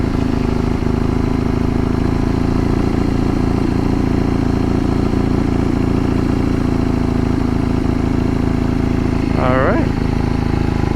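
A motorcycle rolls slowly at low throttle during a California DMV riding test, a steady droning engine hum throughout with a brief rising whine near the end, while someone talks over it.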